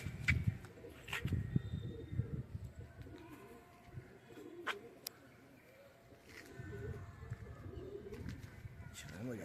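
Soft, low cooing of pigeons just released to fly, repeating in short rolls amid outdoor noise, with brief chirps and faint sharp clicks scattered through.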